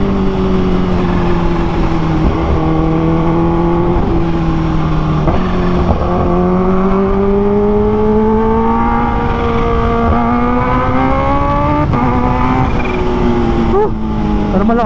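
A Kawasaki H2 motorcycle engine, 2023 H2 Carbon or 2015 H2 OG, revs hard at high RPM, a loud continuous drone whose pitch climbs and dips across several rises, close up and with no talk over it.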